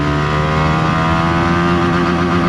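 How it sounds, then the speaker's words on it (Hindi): A TVS Apache RTX 300 adventure motorcycle accelerating in second gear, a loud, steady engine drone with rising harmonic tones, close and continuous with no talk. "एक बार ट्राई करते हैं कि सेकंड गियर में बाइक कितना जाती है।"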